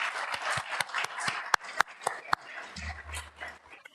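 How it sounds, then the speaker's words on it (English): Scattered applause at a school board meeting, a modest, fairly distant patter of a few hands with several sharper individual claps standing out, tapering off toward the end. "We'll give them a round of applause anyway."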